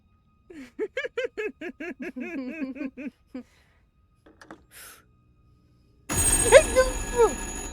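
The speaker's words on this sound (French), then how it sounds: "C'est un téléphone qui sonne après que je raccroche." In the horror video game Little Hope, a telephone suddenly rings loudly after a quiet stretch of laughter and breathy voices, its electronic ring pulsing close and continuing to the end.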